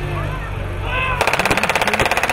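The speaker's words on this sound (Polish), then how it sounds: "Teraz cały czas strzelają" Gunfire at a WWII Eastern Front battle reenactment: a low rumble gives way to a loud, rapid, evenly paced burst of machine-gun fire, close and sustained for about a second.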